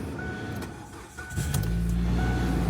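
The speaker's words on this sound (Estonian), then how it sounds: "Proovime tööle ka panna siis selle auto." A car engine turns over and catches, settling into a steady idle close by after a brief quiet moment, with no talk over it.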